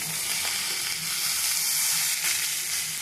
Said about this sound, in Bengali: পেঁয়াজের মধ্যে ডিম ভেঙে দিলাম দুইটা, দিয়ে সব লাল লাল করে ভেজে নিয়ে তারপরে ভাতগুলো দিয়ে দিলাম।